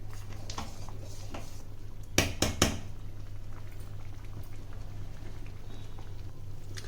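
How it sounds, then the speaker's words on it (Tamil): A pot of Mangalore-style pineapple kulambu curry bubbles at a steady simmer, broken by three quick clunking scrapes of a spoon stirring it midway, then the soft boil carries on alone. "இப்போ இது 5 மினிட்ஸாக கொதிச்சிட்டு இருக்கு. ஒரு தரம் கலந்து விட்டுட்டு நம்ம டேஸ்ட் பண்ணிடலாம்"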